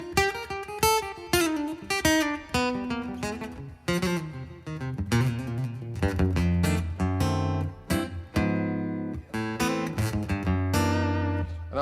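A guitar through a Fishman Pro EQ Mini pedal plays a lively melodic run of plucked notes, then deeper chords and sustained bass tones, clear and close with no talking.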